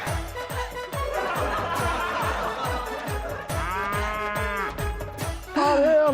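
A water buffalo lows in a drawn-out call over a steady rhythmic thumping beat, with a rising tonal cry near the end, loud and close.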